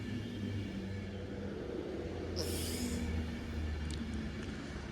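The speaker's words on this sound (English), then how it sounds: "as we jump on this train now to head back to Stoke-on-Trent" Avanti West Coast Class 390 train at Macclesfield station, a steady broadband rumble of rolling stock with a brief high hiss midway and faint squeaks, continuous and fairly loud, no voices.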